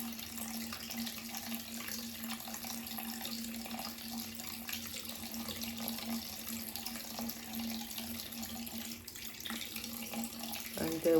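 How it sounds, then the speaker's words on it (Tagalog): A tap runs steadily, water pouring in a continuous, fairly quiet hiss and splash that barely changes over several seconds, heard alone. "Let the water run to the brush and then bring to your eyelashes."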